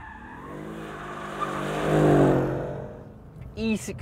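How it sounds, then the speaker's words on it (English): Mercedes-Benz E63 AMG S drifting in oversteer, its V8 engine roaring loudly and tyres squealing as the car slides, with someone talking over it and a brief sharp screech near the end. "Pointless motoring journalism oversteer."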